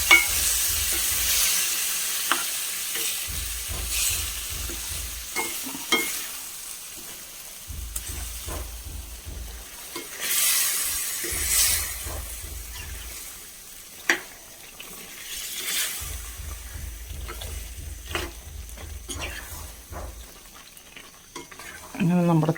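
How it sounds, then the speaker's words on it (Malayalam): Taro root stir-fry is stirred in a hot pan, with soft sizzling underneath repeated scraping strokes and light clinks of the spoon, close up and without talk. "നന്നായി ഇളക്കി യോജിപ്പിക്കാം."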